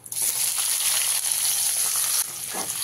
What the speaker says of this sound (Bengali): ভাজা ভাজা হয়ে গেলে এর মধ্যে দিয়ে দিতে হবে কেটে রাখা পেঁয়াজগুলো